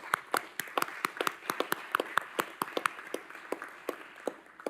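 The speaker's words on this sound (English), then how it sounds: "How about a round of applause for our finance team?" Sparse applause from a small audience for a finance team at a community meeting, distinct individual hand claps in an uneven rhythm, close and fairly clear.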